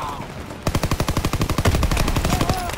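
Suppressing gunfire in the Call of Duty video game during a trench assault: a rapid, loud, even-paced burst of automatic weapon fire, roughly fifteen to twenty shots per second, starting abruptly after a brief quieter lead-in.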